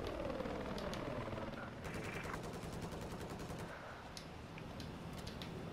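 A military video game battle on Golmud with a jet flying overhead. Rapid, continuous machine-gun fire and engine roar form a dense, steady din throughout, with no talk over it.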